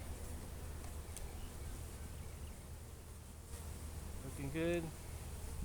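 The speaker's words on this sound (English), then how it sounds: "Guard bee buzzing around me, not being too happy." Honey bees drone around a hive during a spring inspection, with a close guard bee's buzz rising briefly near the end over a steady background hum; a person speaks briefly.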